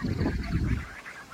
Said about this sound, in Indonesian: Nah, ini angsa-angsa.